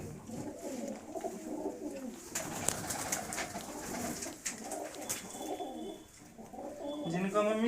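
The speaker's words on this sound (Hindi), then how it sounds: "ये देखो जी जोड़े वाले कबूतर है जिसमें" Paired pigeons coo in a loft, soft throaty rolling calls layered throughout, with people talking nearby.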